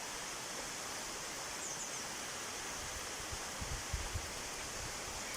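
Girlevik waterfall in Erzincan pours over a rocky cliff in many streams, a steady broadband rush heard from a distance with faint rustles and knocks nearby, no talk.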